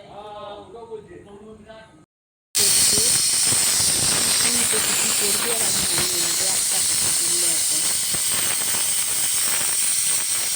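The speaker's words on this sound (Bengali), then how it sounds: "এবার মনে হচ্ছে 2 নম্বর সিটি পড়বে বন্ধুরা" Pressure cooker cooking mutton releases a loud, sustained hiss of escaping steam, starting abruptly after a short pause and continuing steadily, preceded by a brief stretch of quieter kitchen sound.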